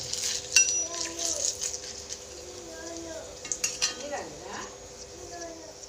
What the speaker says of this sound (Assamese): তেল গৰম হৈ গ'ল, ধুনীয়াকৈ ইয়াত দিলোঁ তেজপাত আৰু শুকান জলকীয়া।